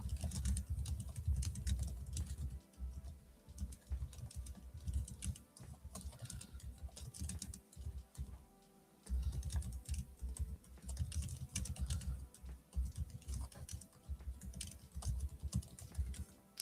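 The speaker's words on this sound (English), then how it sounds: "I'm typing something." Fingers type on a computer keyboard in a steady, rapid patter of key clicks, with short pauses between bursts, close and clear with no talking.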